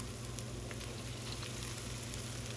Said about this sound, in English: I'm going to go ahead and add our red curry paste. Stir fry that in.